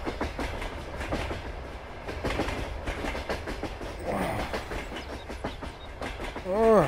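A train rumbles through a tunnel in Farming Simulator 22, its steady clickety-clack echoing loudly throughout, with a voice speaking briefly at the end.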